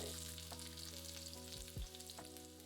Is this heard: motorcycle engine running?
no